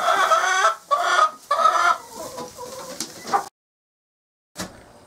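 Hens clucking inside a freshly cleaned backyard chicken coop, several loud close bursts of clucking over about three seconds, then a brief silence and one short final cluck.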